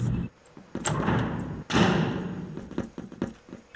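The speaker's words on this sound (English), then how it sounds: "And the door just closed." Door in a video game slams shut with a heavy thud, followed by a second, louder impact and a lingering rumble, with scattered smaller knocks under quiet game ambience.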